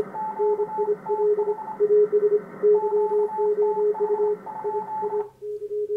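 Two CW Morse code signals on a Kenwood TS-440S ham radio receiver, close together in pitch, their steady beeping dots and dashes overlapping at moderate loudness before one abruptly drops out near the end.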